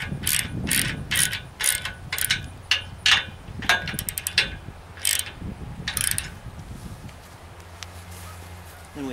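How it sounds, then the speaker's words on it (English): A ratchet wrench snugs down bolts on wooden-framed solar array rails, a rapid series of sharp close clicks in quick strokes, pausing briefly, then a few more bursts. "And then we'll snug down these bolts."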